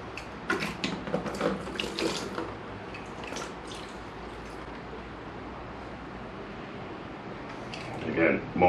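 Dirty coolant water drains and splashes from the radiator of a 1998 Kawasaki ZX9R motorcycle, a steady close trickle with a few louder clanks and handling noises at the start and end.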